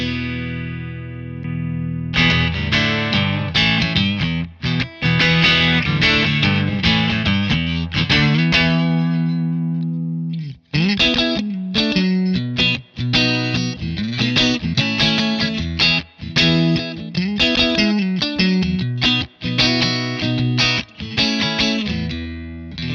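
An electric guitar played through a Mother preamp pedal set as a transparent clean boost, into a Deluxe Reverb amp, rings loud and steady with strummed chords and sustained notes, pausing once briefly midway.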